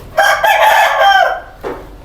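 An Aseel rooster crows on a goat farm in Multan. One loud, close crow is drawn out for over a second, then a short second call follows.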